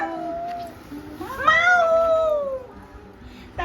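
A voice imitates a cat's meow, giving one drawn-out, rising then falling mew at close range in a quiet room, with a short sound starting again at the very end.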